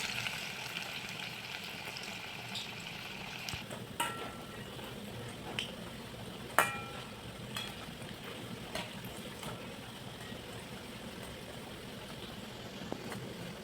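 Drumstick flower fritters sizzle steadily in hot oil, a soft continuous frying hiss broken by occasional small pops and clinks.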